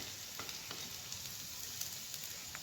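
Red chilli powder, crushed red chilli, salt, turmeric and garam masala frying in a little oil with okra, a soft steady sizzle with faint stirring clicks, quiet and without talk.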